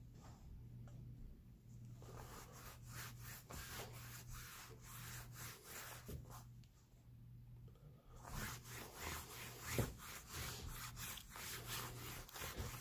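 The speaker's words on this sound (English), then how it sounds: "now I'm going to spread it in with a rag" Rag rubbing warmed wax dressing into the canvas of a Barbour Beaufort waxed field coat, making a steady run of close, soft scrubbing strokes with brief pauses, over a faint constant background hum.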